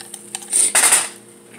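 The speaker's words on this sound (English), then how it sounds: "Just my onions. Just stir those around real good." Onions being stirred in a pan for a simple home dinner, a spoon scraping and clinking against the metal in a short, close burst of a few scrapes and taps, with no talking.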